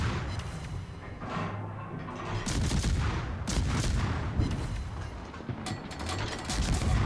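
Enemy battleship gunfire in the naval game World of Warships, a series of heavy, rumbling booms and mechanical clatter close up over steady engine and sea noise, no talk.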